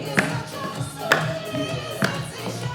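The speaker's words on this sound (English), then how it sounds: "Step touch, we're going to make a bit of a clap today." Hand claps during a step-clap aerobics routine, three sharp claps spaced about a second apart in a steady rhythm over soft background music.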